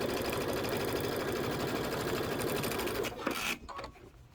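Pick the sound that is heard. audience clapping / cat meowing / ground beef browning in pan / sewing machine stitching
sewing machine stitching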